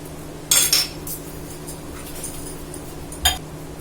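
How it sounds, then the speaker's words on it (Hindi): Dishes and cutlery being washed in a home kitchen while tea brews, with two short clinking, clattering bursts of utensils and a faint low hum between them. "अब ये देखिए, बर्तन है, बर्तन भी मैं साथ साथ साफ कर रही हूँ।"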